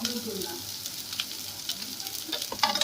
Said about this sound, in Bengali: আর সবকিছুকে আমি ভালোভাবে আবারও মিক্স করে নিচ্ছি আর একটু ভেজে নিচ্ছি